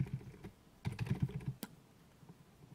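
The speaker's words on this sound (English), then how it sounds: "I bet you love that sound of that keyboard." Computer keyboard typing indoors, with a short cluster of clacking keystrokes in the middle, a sharp key hit, then quiet room tone; no talking.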